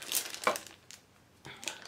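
A plastic bag crinkles and rustles while crystal gems are unboxed, with a few short bursts of crackling separated by quieter gaps.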